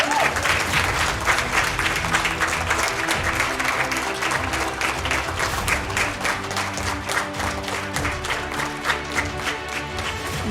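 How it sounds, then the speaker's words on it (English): A hall audience claps at an intercollegiate competition prize distribution function, sustained dense applause throughout with a steady backing tone beneath and occasional voices. "A bigger round of applause, please."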